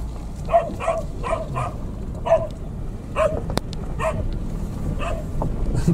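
A dog barks repeatedly in a steady series of sharp barks, moderately close, over a low rumbling background.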